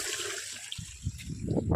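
Water gushes from a farm tank into buckets, a brief, close rushing splash that builds in strength.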